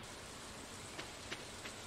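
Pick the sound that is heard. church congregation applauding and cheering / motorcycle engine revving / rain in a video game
rain in a video game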